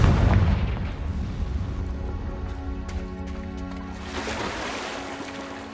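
A Confringo spell blast in Hogwarts Legacy booms loudly at the start, then rolls into a long rumbling decay with ringing tones and a second swell of crackling noise near the end.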